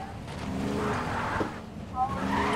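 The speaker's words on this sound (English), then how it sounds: "Car rolls away." Car rolling away and skidding in Fortnite, a broad engine rumble with a brief tire squeal near the end, heard under game audio with speech-like sounds mixed in.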